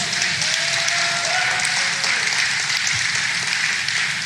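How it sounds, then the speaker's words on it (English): Applause from an audience at a live comedy show, a steady dense wash of clapping heard fairly close and loud throughout, with no one talking over it. "can we just have one more round of applause for Phill Connor and John Kidd?"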